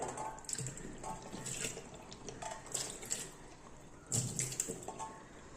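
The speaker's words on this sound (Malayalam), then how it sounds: "ഇനി നമുക്ക് ഇതൊന്ന് സിങ്കിലേക്കെല്ലാം ഒന്ന് ഒഴിച്ചു കൊടുക്കാം" Hot cleaning liquid is poured into a kitchen sink and its drain hole, making soft, uneven splashing and trickling that swells in a few bursts, fairly quiet and with no voices.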